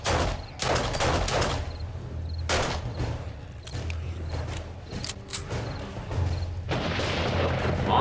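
Repeated heavy booms and blasts from TNT bombs going off in 7 Days to Die, a string of loud explosions with rumbling tails and irregular spacing, with no talking.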